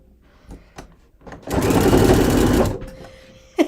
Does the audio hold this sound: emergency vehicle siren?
no